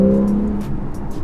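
Porsche 911 50th Anniversary Edition engine revving under acceleration, a loud rising engine tone that drops away after a moment, followed by a rougher lower drone.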